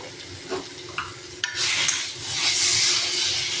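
Potatoes with chopped tomato, salt, turmeric and spices frying in a pan: a few scrapes of stirring, then a steady hiss and sizzle swelling close by, with no voices.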